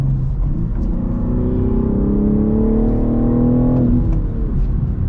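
A steady 2023 BMW M3 manual engine note, played through the cabin speakers by the sound control, rises smoothly in pitch like revving acceleration, loud and close, then drops off near the end.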